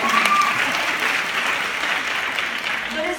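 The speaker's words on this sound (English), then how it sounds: "Y'all should clap for that." Steady audience applause at a conference session, a dense wash of many hands clapping at even loudness with a few faint voices mixed in.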